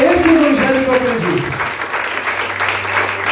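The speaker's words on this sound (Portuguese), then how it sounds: "Aplausos em nome do Senhor." Church applause breaks out during a sermon, a broad crowd clapping at moderate loudness under a preacher's voice that speaks at the start, with a low hum underneath.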